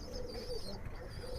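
Pigeons kept in a loft, giving soft low cooing that repeats in short throaty phrases, close by and fairly quiet, with faint chirps above it over about a second and a half.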